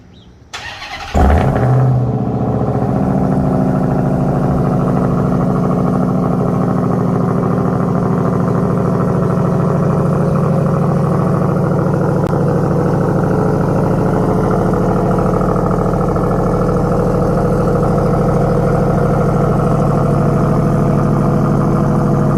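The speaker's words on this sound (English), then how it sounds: "So I'm going to go ahead and give it a cold start." A Ram TRX truck fitted with an AWE exhaust cold-starts: a brief cranking whir, a loud catch and flare, then a deep, steady, rumbling idle that holds loud and close.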